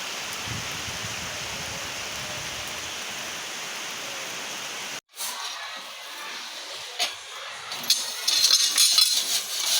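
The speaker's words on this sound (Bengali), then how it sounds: "এখন দেখো কি জোরে বৃষ্টি নামছে" Heavy rain pours down in a steady hiss for about five seconds, then stops abruptly and gives way to quieter room sound with faint clinks of dishes.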